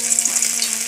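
Garlic sizzles in hot oil in a kadai as a tempering for fried potatoes, a close, loud, continuous crackling fry with no voices.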